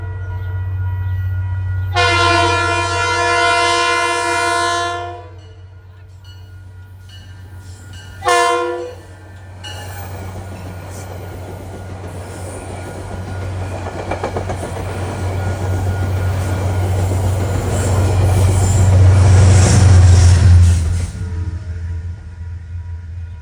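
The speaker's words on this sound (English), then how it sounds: "See the Harmon equipment train." A Metro-North Harmon equipment train passes at Peekskill, opening with a loud, sustained multi-tone horn blast and a second short toot, then a long rumbling roll of wheels and cars that builds louder before fading.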